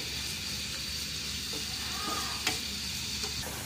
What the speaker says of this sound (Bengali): পেঁয়াজ কুচিগুলো তেলের মধ্যে ছেড়ে দিলাম।